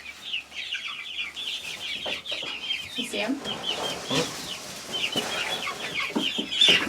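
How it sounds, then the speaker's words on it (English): Chickens cluck and chatter close by on a homestead in a busy, continuous stream, a rooster among them, with a brief spoken question mixed in partway through. "Oh, there's our rooster"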